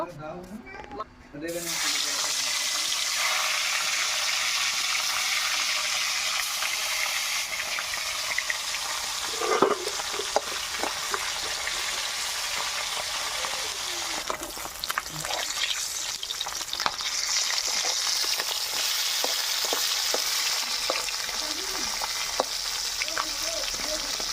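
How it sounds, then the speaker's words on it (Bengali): Snakehead fish fry in hot oil in a wok over a hot stove, giving a continuous loud sizzle with occasional clinks and spatters as the pieces are turned. "তেল দিয়ে দেবো মাছগুলো আমি ভেজে নেব"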